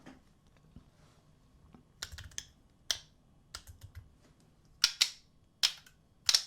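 Sharp, crisp clicks from a Shell Idea S3 slider fidget toy by Fablades, scattered irregularly with a few faint taps early on, then louder, snappy clicks in quick pairs near the end, with no talking.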